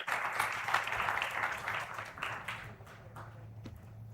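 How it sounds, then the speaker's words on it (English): A crowd claps steadily for a few seconds, the applause thinning out toward the end over a low hum. "A round of applause for Ms. Priyambada Upadhyay here."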